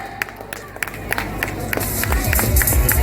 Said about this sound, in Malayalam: So നല്ലൊരു കൈയടി കൊടുക്കാം